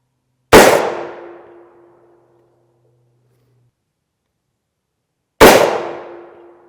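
Two loud, sharp shots sound about five seconds apart, each with a ringing decay. The shots are rifle rounds striking an AR500 steel armor plate, and no other sound is heard between them.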